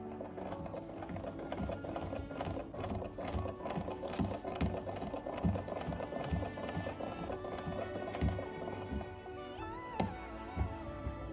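Vintage SAF Pinnock sewing machine made in Australia stitching fabric, a fast, steady mechanical clatter of needle and gears running continuously at close range with a brief pause near the end.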